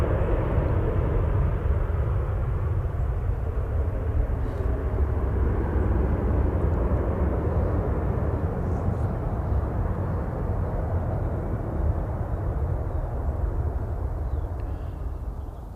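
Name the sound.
Aer Lingus heavy airliner arriving from Orlando, over Stockport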